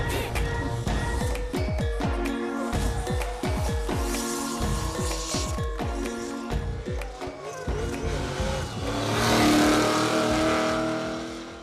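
A drift car worked with the handbrake on a country road revs hard in repeated bursts, the engine rising and dropping as it slides, ending in a loud sustained roar with tire noise, close and continuous.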